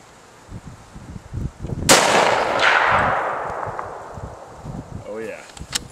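A 30-06 rifle fires a reloaded 110 grain Hornady V-Max round outdoors: one sharp, loud report with a long rolling echo, preceded and followed by handling noise and brief voices.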